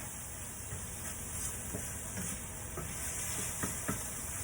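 A butter bean and chunky vegetable mix sizzles and fries in a pan with a steady soft hiss, broken by occasional faint stirring scrapes and taps.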